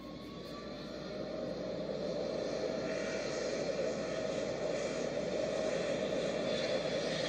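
A steady airplane engine drone swells in and holds, a continuous loud whirring roar with no talking, from an airplane in a video game.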